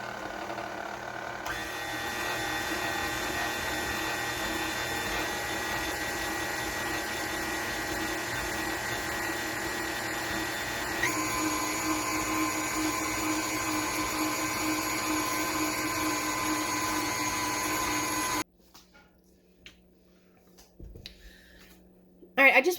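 KitchenAid stand mixer with a whisk attachment creaming butter and brown sugar for a banana oatmeal cake, a steady motorized whir with a mechanical hum that shifts in tone partway through, then cuts out into near silence.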